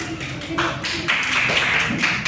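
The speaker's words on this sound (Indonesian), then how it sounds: "Tepuk tangan." Hands clap in a primary classroom after a pupil's answer, a short burst of sharp taps at moderate loudness.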